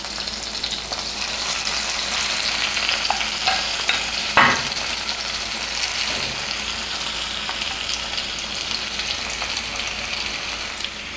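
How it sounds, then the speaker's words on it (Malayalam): Marinated chicken fries with tomato and sautéed masala in a pan, an even close-up sizzle running throughout, punctuated by a sharp clack and a few scraping stirs. "നമ്മൾ മാരിനേറ്റ് ചെയ്ത് വെച്ച ചിക്കൻ ഇതിലേക്ക് ചേർത്ത് കൊടുക്കാം"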